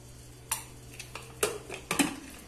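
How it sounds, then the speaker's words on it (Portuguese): Metal clanks and knocks as a lid is put on a cooking pot of chicken stew, a few sharp hits spaced across the moment with faint background hum. "Tampar a panela."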